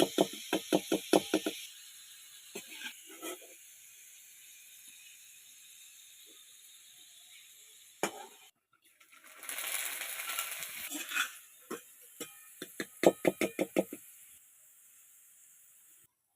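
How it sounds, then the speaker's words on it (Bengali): Khesari dal, dried grass pea lentils, dry-frying in a pan: scattered clusters of sharp crackles and rattling taps, with a stretch of hissing sizzle in the middle and quiet gaps between bursts. "আমি এই ডালগুলো এবার ভেজে নেব।"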